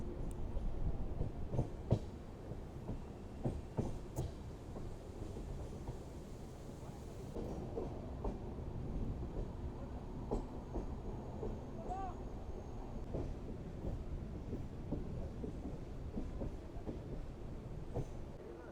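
Train on the Londa to Kulem line near Dudhsagar Waterfalls, running steadily on rails with a continuous rumble and clatter throughout, fairly close.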